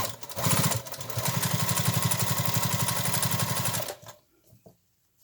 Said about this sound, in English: So I'm going to sew that stitch in the ditch there.